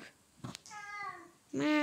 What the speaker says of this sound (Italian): Ma il gatto che miaua.